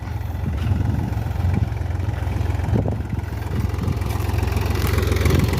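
Iseki tractor engine running in a sugarcane field during planting without a planter, a steady low chugging idle with a constant rumble, close and fairly loud, with no voices.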